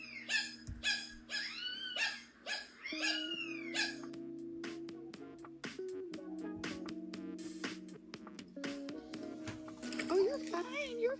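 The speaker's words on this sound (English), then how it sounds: "Barking like a dog." A cat gives a quick series of short, bark-like calls resembling a dog's bark, close by, followed by steady tonal music.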